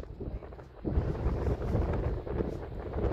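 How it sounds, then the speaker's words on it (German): Gusty wind buffets a microphone outdoors, a loud, rough rumble that swells and drops in uneven bursts for the whole stretch. "Wo kommt der scheiß Wind her?"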